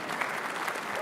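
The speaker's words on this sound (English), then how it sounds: "I think we maybe even should give another round of applause." A round of applause from the audience at a community award presentation ceremony: steady, even clapping from a crowd, heard alone for about a second.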